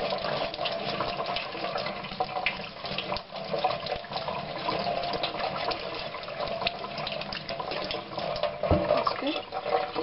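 Tap water running steadily while tomato seeds are rinsed in a sink, a continuous close gushing stream.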